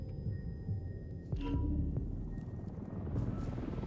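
A helicopter in the video game Ghost Recon Wildlands. A low, steady rotor rumble drones throughout at moderate distance, with a brief sharper mechanical burst partway through.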